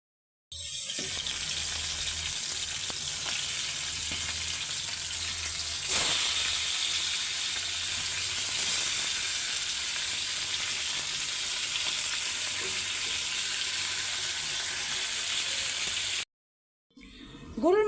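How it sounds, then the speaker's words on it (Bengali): Chicken pieces frying in a pan for a roast dish, a steady, loud, close sizzle that runs unbroken for about sixteen seconds before cutting out, with no talking. "তো এগুলির এখন ভাইজা নিব রোস্ট করার জন্য। তো মুরগিটা ভাইজা নিই।"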